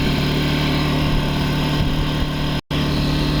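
An AYERBE 1200i inverter generator runs at a steady, loud drone with a constant engine hum and buzzing overtones, broken by a short gap of silence near the end.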